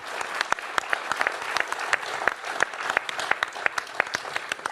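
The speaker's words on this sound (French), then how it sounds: "Voilà pour Chary qu'on peut applaudir parce que c'est bien" Audience at a national conference clapping with steady, distinct hand claps, moderately loud and sustained throughout with no talk over it.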